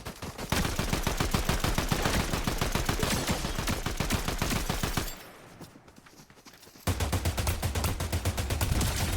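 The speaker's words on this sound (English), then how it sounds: "Why are you shooting at me and then you run away?" Rapid automatic gunfire in Fortnite: a long burst of evenly spaced shots, a brief quieter gap, then the firing resumes just as loud and dense, close and dominant.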